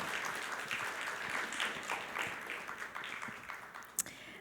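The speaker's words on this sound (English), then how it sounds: "Can we get another big round of applause for Aditi and Kuldeep?" Faint, distant applause from a seated audience at a talk on women, the sacred and equity, a soft patter of many hands with one sharper clap near the end.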